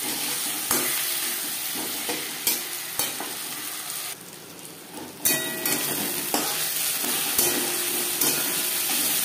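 Chopped onion and tomato fry in a pan, a steady close crackling sizzle broken by several sharp stirring scrapes and knocks, with a brief quieter lull midway.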